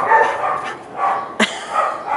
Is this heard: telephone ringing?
no